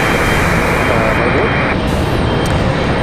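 A United Boeing 737-700 jet arriving from Chicago O'Hare roars steadily and loudly as it comes in to land, a broad, continuous engine rumble with no pauses.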